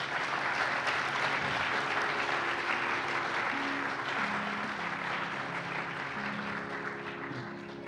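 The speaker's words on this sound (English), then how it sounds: "I think a big round of applause for Appai." Audience applause at a sitar-sarod jugalbandi concert, a full, dense round of clapping that stays strong before gradually thinning and fading, with faint voices beneath.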